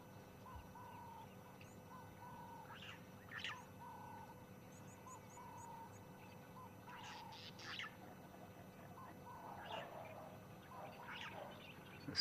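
Doves give soft repeated cooing calls at dawn in a private game reserve, several short phrases spaced across the scene over a quiet outdoor hush with faint chirps from other birds.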